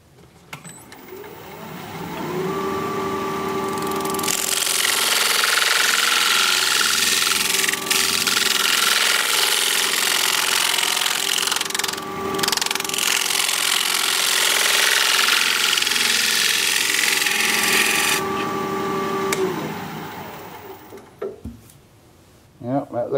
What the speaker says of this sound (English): I think I'm going to scrape this sidewall with my 1-inch negative rake scraper while I still have a little support in the middle.